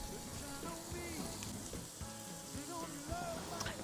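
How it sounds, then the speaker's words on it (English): Bacon strips sizzling in a pan that has been heating a long time, a soft steady crackle with scattered pops and faint clinks, fairly quiet throughout. "We're going to put some bacon into this pan that's already been heating for quite a while."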